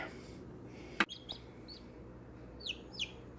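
A newly hatched chick in an incubator lets out a few faint, high peeps, with a sharp knock just before them over a steady low hum.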